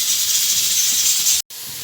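Steam hissing loudly and steadily from a pressure cooker as lentils cook on the stove, one continuous close rush that cuts out briefly and then resumes.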